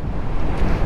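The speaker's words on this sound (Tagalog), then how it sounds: "So ganyan nakalakas yung alon." Strong ocean waves pound a beach during Typhoon Tino, a dense roaring wash of surf mixed with heavy wind buffeting the microphone, loud and unbroken.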